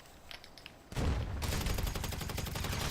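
Shotgun fire in GTA 5 Online begins after a quiet stretch of small taps. A heavy blast is followed by dense, rapid gunfire that continues loudly to the end. There is no talking.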